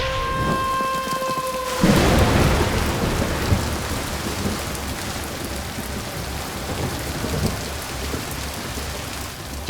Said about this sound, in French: Les naufragés rentrent sous une pluie battante.